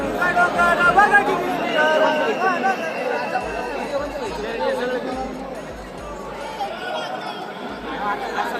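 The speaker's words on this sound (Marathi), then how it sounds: "खूप गर्दी आज" A dense crowd of pilgrims chatters at the Saptashrungi temple on Vani hill, many overlapping voices forming a close, continuous babble with no single speaker standing out.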